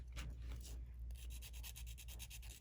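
The rough side of a nail file buffer being rubbed over dip powder nails, giving a close, steady scratchy rasp in quick repeated strokes that turn more rhythmic toward the end.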